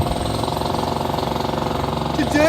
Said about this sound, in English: Today we're drilling down 300 feet through solid bedrock.